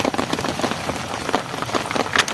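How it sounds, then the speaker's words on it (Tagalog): Steady heavy rain pours onto surfaces outdoors during a thunderstorm on an overnight hunting trip, a dense, continuous hiss close by with no thunder. "nabutan kami ng ulan"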